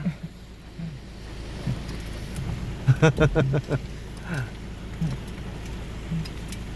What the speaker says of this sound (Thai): ฝนตกเลยครับ หนักเลย